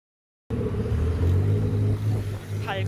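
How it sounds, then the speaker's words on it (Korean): After a moment of silence, several cars leaving a lot pass close by in a steady low engine rumble that swells and then eases slightly. "지금 차들이 엄청 나가고 있어요."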